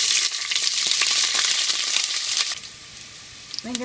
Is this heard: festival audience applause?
no